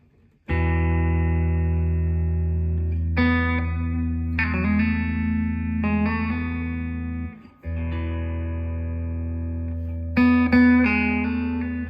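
A Karl Longbottom Alpine B110 baritone electric guitar is played through its bridge pickup, sustained low chords ringing loud and alone with reverb and a few chord changes.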